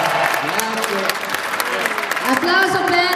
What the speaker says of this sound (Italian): Allora, applauso per Paolo